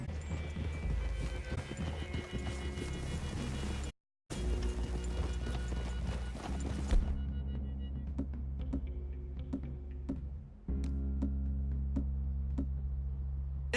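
A horse's hooves clip-clop in Red Dead Redemption 2, a regular run of hoof strikes over a steady low rumble that cuts out briefly, then thins to sparser, distinct thuds with faint game ambience.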